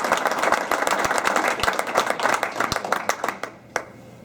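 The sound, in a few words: round of applause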